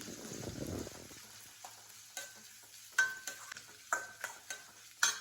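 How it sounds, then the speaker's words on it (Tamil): Onions going into hot oil with cinnamon and cloves, a brief burst of sizzle at first that settles into quiet frying, then several light utensil clinks and scrapes at intervals. "நம்ம எடுத்து வச்சுக்க வெங்காயத்தை சேர்த்துக்கலாம். வெங்காயம் நல்லா வதங்கணும்."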